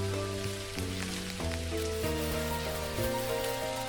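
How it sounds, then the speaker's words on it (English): Steady rain patters across surfaces in the farming video game Dinkum, a continuous soft hiss of drops layered over gentle melodic game music. "Randomly soaking up all the rain."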